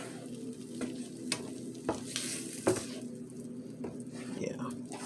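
Vegan egg roll filling with chik'n and peppers is stirred in a pan, soft sizzling under repeated sharp utensil scrapes and taps at an irregular pace, quiet and close, with faint voices in the background.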